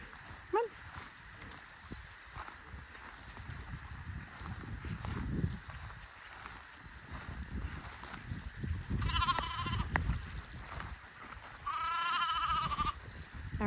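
Sheep bleat in a pasture with virtual fencing: several clear, wavering calls, some close and loud, over low outdoor background and faint rustling.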